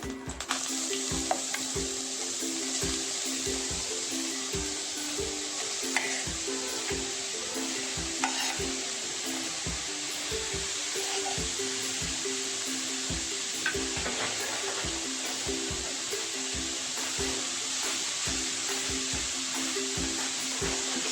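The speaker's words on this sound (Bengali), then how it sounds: "প্রথমে আমি গাজর কুচিগুলো একটু ঘিয়ে ভেজে নেব।" Chopped carrots fry in ghee for carrot shemai, a constant close sizzle with a steady, regular pulse of stirring running underneath the whole time.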